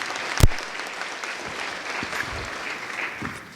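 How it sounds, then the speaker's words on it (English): Audience applause at a Kenyan budget preparation launch event, steady sustained clapping from a crowd in a hall, opening with a loud thump and holding an even level throughout. "Can we give him another applause?"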